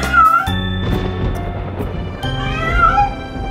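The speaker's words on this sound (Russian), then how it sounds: "Мяу, мяу" Cats meowing in a children's song: a few bright, drawn-out meows at the start and again near the end, with a bouncy backing tune throughout.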